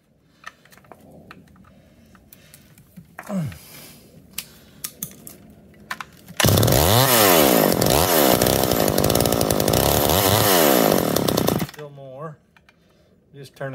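A McCulloch Eager Beaver 2.0 chainsaw is pulled and fires up, then runs loud and buzzing for about five seconds before cutting out, after scattered clicks and handling noises nearby.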